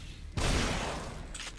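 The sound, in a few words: gunfire in the video game The Evil Within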